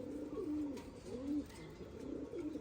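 Pigeons coo softly on a rooftop in a cage, giving repeated low rolling calls in a steady rhythm that is faint and close, with no voices.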